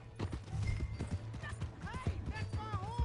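Horse hooves clip-clopping in Red Dead Redemption 2, a quick uneven rhythm of close thuds, with a horse's whinny and voices over the top.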